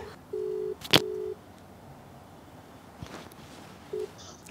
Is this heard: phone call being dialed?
yes